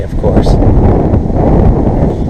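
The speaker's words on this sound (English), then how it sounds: "And it's windy today," Strong gusty wind buffets the microphone outdoors beside an RV, a loud continuous low roar with a brief voice barely audible beneath it.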